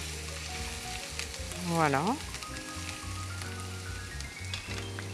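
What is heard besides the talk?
garlic sizzling in oil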